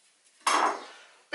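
A knife chops garlic on a board during a Greek chicken souvlaki prep: one dense, close burst of cutting clatter, then quiet, then a second sharp chop at the end.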